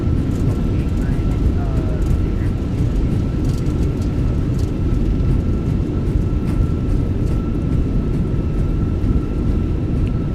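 A Fenix A320 in MSFS2024 lands at Christchurch with thrust reversers deployed, producing a loud, continuous engine roar throughout while a voice talks over it.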